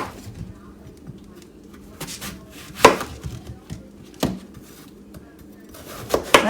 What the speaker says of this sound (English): Last thing we have to do is chop up an apple.